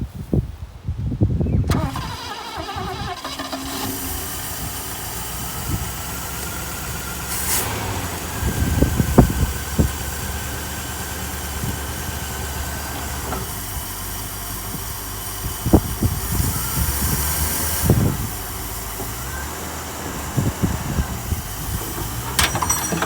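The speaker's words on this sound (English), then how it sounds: "we're just going to start it up again and throw it into drive" An old car engine cranks and catches near the start, then settles into a rough, rumbling idle with occasional louder surges. Voices can be heard now and then.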